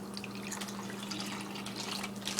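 Water trickles and splashes softly into a coffee maker in a kitchen, a faint, steady pour heard close by without any talking.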